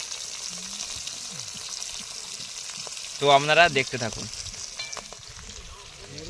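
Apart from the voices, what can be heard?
fish heads frying in a pan on a boat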